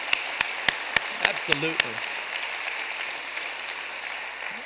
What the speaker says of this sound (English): Can you give God a round of applause for that?